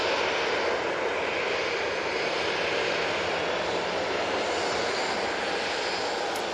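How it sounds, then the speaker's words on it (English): A Ryanair Boeing 737-800 lined up for departure at Manchester Airport produces a continuous, loud, even jet engine roar with no voices. "RyanAir 737-800 lined up ready to go"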